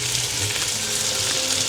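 Pork cubes fry in a hot pan with a steady, close, crackling sizzle throughout, with no talking.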